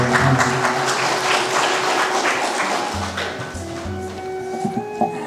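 Audience applause after a Nepali ghazal recital, a dense burst of clapping from many hands that gradually thins and softens over several seconds, with a faint tonal hum underneath.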